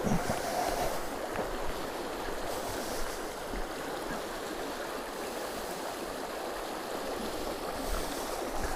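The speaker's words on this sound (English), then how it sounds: "This is what we're talking about for a brook." A brook runs across a piece of off-grid land beside a cabin build, giving a steady, broadband rushing water sound that stays even and continuous throughout, with no voices over it.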